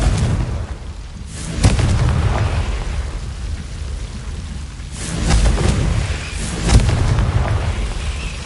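Confringo fire spells burst repeatedly in Hogwarts Legacy, a few heavy rumbling blasts rolling loud and close with a lingering low roar between them.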